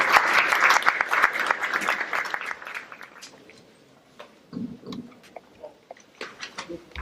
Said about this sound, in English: Let's welcome him with a big round of applause.